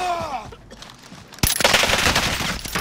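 Burst of rapid gunfire in a Call of Duty Warzone shootout on Caldera, loud and dense, erupting suddenly after a quieter stretch and continuing steadily to the end.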